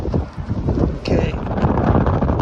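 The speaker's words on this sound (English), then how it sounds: "Lots of wind, rain" Strong wind buffets the microphone on a bleak, rainy Oregon coast beach near Yachats, a loud continuous roar with gusty surges, and a brief higher whistle partway through.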